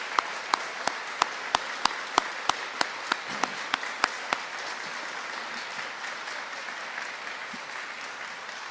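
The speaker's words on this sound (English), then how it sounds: "give them a round of applause for their great work." Audience applause at Seattle Mayor Harrell's budget proposal speech: one nearby person claps loudly in an even rhythm for about four seconds over a softer crowd, then the crowd's clapping tapers off.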